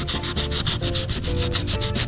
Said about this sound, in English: So I'm going to sand this whole thing like so